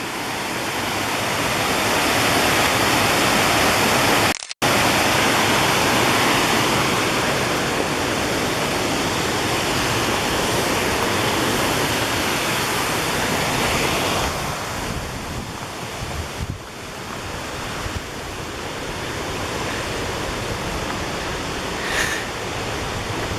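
Waterfall along a forest trail in the Saluda and Tryon, North Carolina area, a steady, full broadband roar that stays constant and close throughout, easing slightly toward the end, with no voices.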